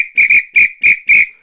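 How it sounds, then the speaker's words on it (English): A whistle blown in four short toots, with the second one doubled, given as a cheerful signal. Each toot is loud, shrill and close, with brief silent gaps between them. "I give you a little blow of the whistle"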